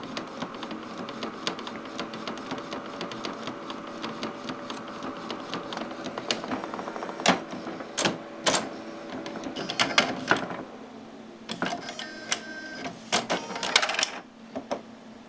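An inkjet printer running and printing, with a steady mechanical whir and rattle broken by sharp clicks and clacks as the print head moves, getting busier toward the end.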